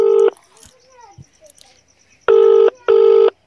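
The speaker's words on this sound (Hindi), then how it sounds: "फिर लगावो तनी फोन दूसर का मुखिया तर" A phone is dialed with keypad tones. One beep is followed after a pause by two longer, loud tones, with faint background noise and brief voice fragments between them.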